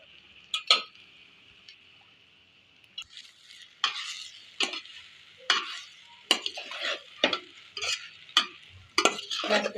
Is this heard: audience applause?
no